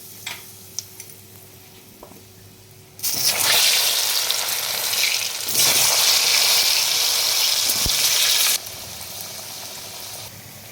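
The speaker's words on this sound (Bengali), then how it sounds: "আমি কচুগুলোকে আগে ভেজে নেবো।" Taro pieces dropped into hot mustard oil in a pan for a spicy tangra fish curry, a loud steady sizzle bursting in after a quiet start, continuing close and strong before easing slightly near the end.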